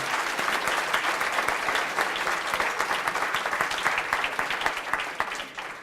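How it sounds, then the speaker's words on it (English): Audience at a student academic competition gives a round of applause, a thick, even wash of many hands clapping continuously at moderate distance for several seconds, with no voices on top. "one more round of applause that way"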